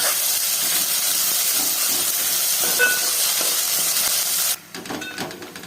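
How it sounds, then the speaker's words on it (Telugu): Crushed onions fry in a pan with cloves for a village-style country chicken curry, giving a steady, close sizzling hiss. It quiets abruptly near the end, leaving fainter crackles. "ఉల్లిగడ్డను బాగా ఎర్రగా వేయించుకోండి"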